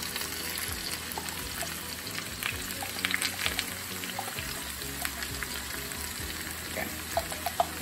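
Steak, potato and bacon casserole with minced garlic being stirred in a pan, a steady close sizzle with intermittent scraping and clinking of the utensil throughout.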